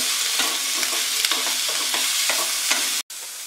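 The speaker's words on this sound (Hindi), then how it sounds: "प्याज, टमाटर, अदरक, हरी मिर्च, लहसुन को हम डाल देंगे और इसे अच्छी तरह से भूनेंगे" Steady sizzling and crackling from onions, tomatoes, ginger, green chilies and garlic frying in a pan, with occasional stirring scrapes, continuous and fairly close, then a brief cut near the end.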